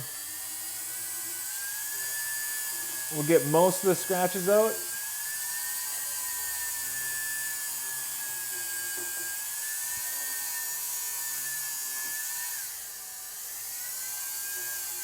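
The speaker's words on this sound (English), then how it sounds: "Let's use our sanding drum." A high, steady whine of a small rotary tool with a sanding drum working the inside of a gold ring runs throughout, with a short burst of speech over it and a brief dip near the end.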